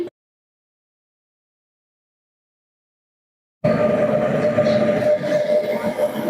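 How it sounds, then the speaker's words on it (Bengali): After several seconds of silence, an Indian Railways train suddenly rumbles loudly into a station, with steady heavy rolling noise and a sustained mechanical hum close by. "এটা হচ্ছে আমাদের ট্রেন।"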